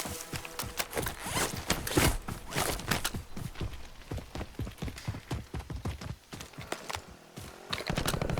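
Weapon reloading in Call of Duty Warzone, a battle royale game: a busy run of close, rapid mechanical clicks, clacks and rattles, along with shuffling movement, sounding continuously without speech.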